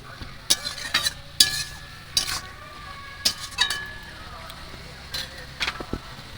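Telakucha greens tossed into hot oil with fried onions in a pan, a soft sizzle under loud, irregular spatula scrapes and clanks against the pan.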